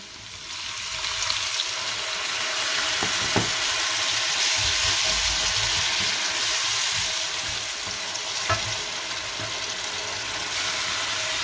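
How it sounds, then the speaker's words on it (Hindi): Water goes into a hot pan of frying garlic and ginger for a fish curry, and a loud, steady sizzle and hiss runs throughout without pause, with a couple of faint utensil taps. "अब हम इसमें थोड़ा पानी डाल देंगे।"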